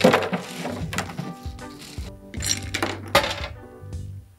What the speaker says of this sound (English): we're gonna fill our mule mug with fresh ice